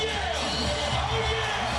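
A packed crowd cheering at Quicken Loans Arena during a basketball game, a continuous dense roar that stays loud and steady throughout the short moment.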